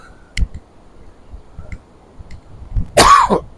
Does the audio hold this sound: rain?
no